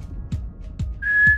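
A person whistles one clear, steady high note near the end, held for about half a second and loud and close, after a few soft thumping breaths or knocks.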